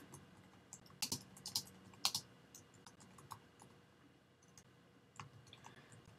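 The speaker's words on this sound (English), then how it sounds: "I'm just going to type in a phrase here for us." Typing an HTML phrase on a computer keyboard makes scattered light key clicks in short clusters, close but soft against a quiet room, with no voices.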